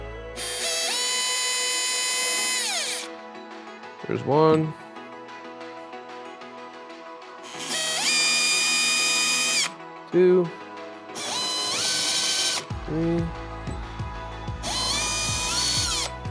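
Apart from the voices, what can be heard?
power drill making small dimples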